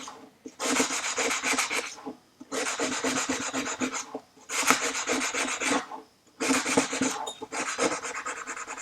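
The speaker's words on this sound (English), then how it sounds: "So it'll get another wash now to get rid of any remaining debris. Just give it a little quick scrub." An engine part gets scrubbed with a brush in a parts washer, four bursts of brisk, close bristle rubbing separated by short pauses.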